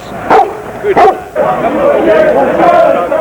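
Police dogs on crowd-control duty at a World Cup match give two sharp nearby barks, followed by a busy, murmuring crowd.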